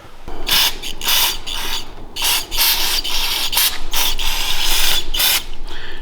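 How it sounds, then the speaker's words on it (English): Repeated bursts of aerosol brake cleaner spray hiss in quick succession onto mini bike parts, close and loud, with brief pauses between sprays and a rattling, mechanical edge. "first I'm gonna spray it all down with brake cleaner"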